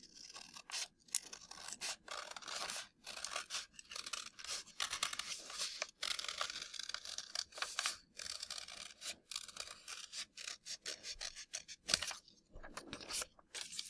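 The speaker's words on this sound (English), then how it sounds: "grab a pair of scissors. And while it's still folded, I want you to cut on that line that you just made." Scissors cut along a line through folded paper, making a long run of close, crisp crunching snips with brief pauses between them.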